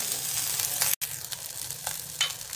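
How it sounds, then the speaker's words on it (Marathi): Green chilies fry in hot oil with a steady bright sizzle and crackle, interrupted by a brief dropout before the hiss resumes and flares in short bursts. "तेल छान तापले, त्यामध्ये मिरची घालायची."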